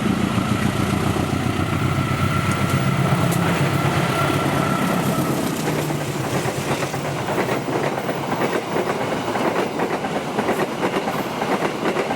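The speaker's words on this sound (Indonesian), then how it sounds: "Baru saja melintas kereta api Gaya Baru Malam Selatan 104C." The Gaya Baru Malam Selatan 104C passenger train rolls past close by, a loud continuous rumble with rhythmic wheel clatter that eases slightly toward the end.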